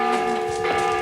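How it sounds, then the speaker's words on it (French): Church bells ring together in a dense, sustained clang with layered overlapping tones, one bell out of tune, heard briefly and fairly loud. "sonnez les cloches pour le rassemblement"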